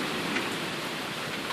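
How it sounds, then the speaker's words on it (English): Rain pours down in a steady, even hiss with faint scattered drop ticks and no voices. "It's raining raindrops."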